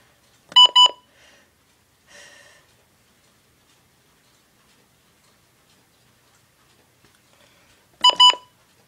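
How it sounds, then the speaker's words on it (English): Alert tones from NOAA Weather Radio signaling an EAS administrative message: two short bursts of harsh, buzzy data tones near the start, a faint blip shortly after, then near silence before a final matching pair of bursts at the end. "I think that's one of the shortest EAS messages I've ever gotten"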